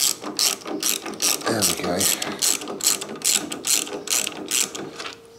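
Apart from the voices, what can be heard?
ratchet undoing a bolt on a Kawasaki ZZR1100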